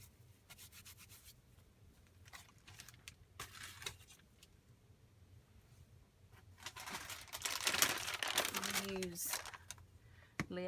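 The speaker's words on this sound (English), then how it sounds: "Lay out some paper" Paper being laid out on a craft table, rustling and crinkling sheets that rub and slide, quiet at first and then louder and busier near the end, with brief voice-like sounds mixed in.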